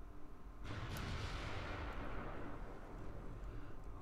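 Naval gunfire from warship guns in Ultimate Admiral: Dreadnoughts: a heavy boom breaks in after a quiet start, then a sustained low rumble of shelling and explosions rolls on loud and dense for the rest.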